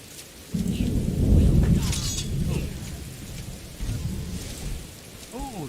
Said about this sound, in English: I think it's raining outside.